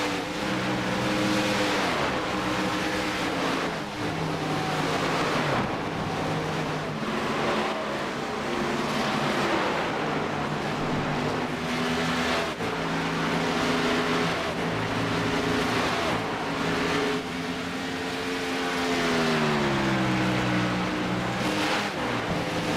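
NASCAR race cars roar continuously in a racing video game at California, with engine pitch climbing and falling through gear changes and a dense, close, loud tone throughout.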